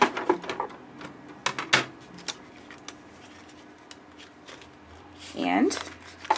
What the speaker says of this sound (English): So you just have to give it a couple of good cranks through.